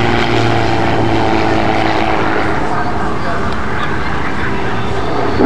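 A CAP232 aerobatic propeller plane roars steadily overhead at the Bournemouth Air Festival, a loud continuous engine drone with a slight shift in pitch as it manoeuvres, with a commentator talking over it.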